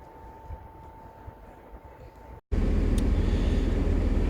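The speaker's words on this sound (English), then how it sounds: "So I'm on the train" A train rumbles from inside the carriage on a day out to Todmorden: a quiet, low hum gives way after a brief gap to a loud, steady roar of rolling wheels.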